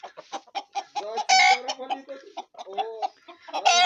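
Hens cluck and squawk in short agitated bursts, close by, with a rooster's calls mixed in and no talking.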